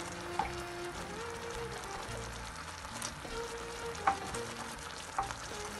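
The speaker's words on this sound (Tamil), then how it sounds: "இது மாதிரி கொதிச்சு வர வரைக்கும் கொஞ்சம் நேரம் அப்படியே சாஸ் வச்சு இப்போ வந்து சிக்கனை வந்து அதில் போட்டுடலாம்" Chicken simmers in a boiling honey-garlic sauce with a steady bubbling sizzle throughout, broken by a few louder pops and spatters, and no one talks.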